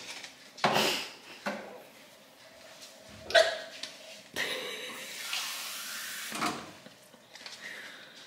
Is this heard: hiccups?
yes